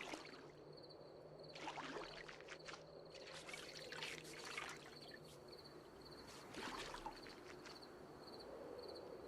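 Water trickles steadily into an empty bottle at a stream in a survival video game, a soft continuous pour with brief louder splashy bursts over a faint outdoor background.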